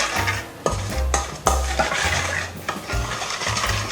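A spoon works through a garlic salad base in a bowl, with repeated scraping and clinking strokes in an uneven rhythm, close and fairly loud, and no voices.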